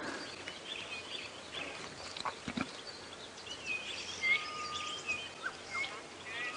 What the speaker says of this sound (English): I'm starting to hear lots of birds I haven't heard for many months